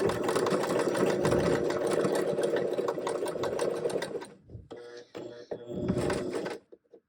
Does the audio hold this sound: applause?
no